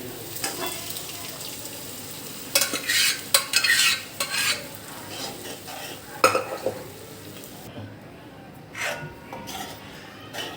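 Boiled peas are stirred into soft cooked tomato and onion in a pan for ragda, with scraping spoon strokes in bursts over a low sizzle and a few clinks of utensils.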